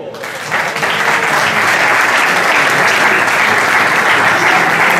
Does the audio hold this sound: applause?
yes